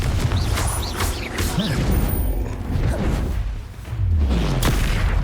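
Confringo blasting spells go off in the Hogwarts Legacy video game, with repeated booming explosions and crashes amid combat and shouted voices.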